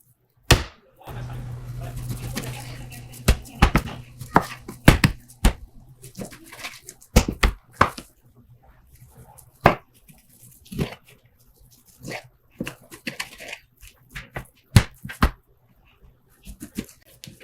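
Beef being chopped into chunks for an Instant Pot, a knife striking the cutting board in sharp, irregular chops, close by, with brief talking and pauses between cuts.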